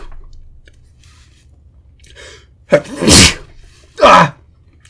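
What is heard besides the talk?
sneezing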